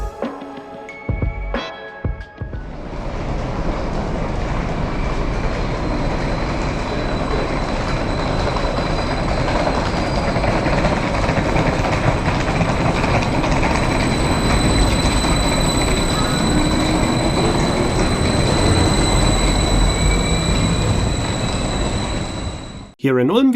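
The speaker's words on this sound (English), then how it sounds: "we can take a look at the departure of the train" A Westbahn train pulling out of Ulm station, a loud, steady rumble of rolling cars with a thin high squeal from the wheels over the full stretch before it cuts off.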